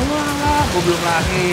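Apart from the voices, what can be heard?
rain falling outside a food stall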